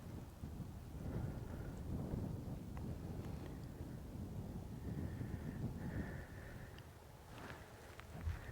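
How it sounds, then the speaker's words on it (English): Distant storm thunder rolls as a low, steady rumble lasting throughout, with faint wind and rain noise and no clear sharp cracks. "Still a lot of thunder down that way though."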